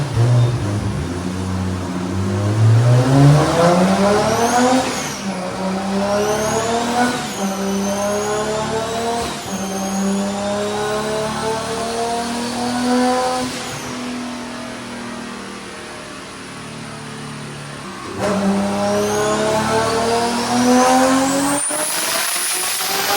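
A Toyota Supra engine revs hard through rising pulls, pitch climbing then dropping at each shift, loud and close, with brief tire squeal.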